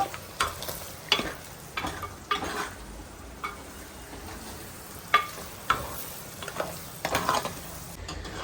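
Finely chopped onions and green chillies fry with mutton keema in a pan, a low steady sizzle broken by repeated scraping stirs and light clinks of a spoon against the pan.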